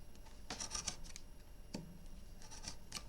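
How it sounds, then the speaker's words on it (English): Cutting along a ruler on a marked line while making a box with a window lid: scratchy, scraping strokes in short bursts, close and fairly quiet, with a longer pause between passes. "And then cut just inside the line."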